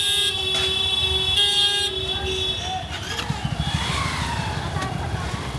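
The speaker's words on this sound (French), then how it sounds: "Vous entendez les klaxons, c'est un vrai bordel." Car horns honk repeatedly in busy Delhi traffic, several overlapping toots, with engine noise and a passing motorbike nearby.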